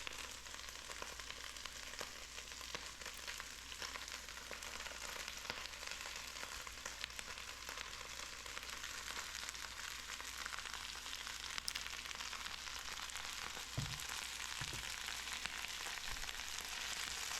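Chinese lettuce and red lettuce leaves frying in a little oil in a cast iron pan, a steady, even sizzle throughout with a few soft clanks near the end and no talking.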